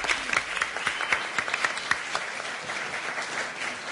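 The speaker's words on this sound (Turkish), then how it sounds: "alkışlayalım." A studio audience at a Turkish game show breaks into steady applause, a dense wash of many hands clapping at moderate distance, fading slightly toward the end.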